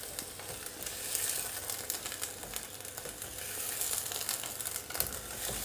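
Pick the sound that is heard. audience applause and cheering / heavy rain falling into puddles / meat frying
meat frying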